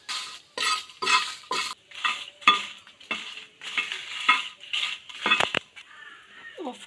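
Dried red chillies stir-fried in a frying pan for a chepa shutki bharta, with repeated scraping and rattling strokes in bursts, close and clear, ending in a few sharper clinks.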